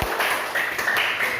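A classroom of students gives a brief round of applause, with a short patter of close, scattered claps and taps lasting just over a second.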